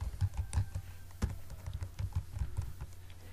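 Code being typed on a computer keyboard, with quick, irregular key clicks in short bursts and a sharper tap now and then, fairly close and with no talking.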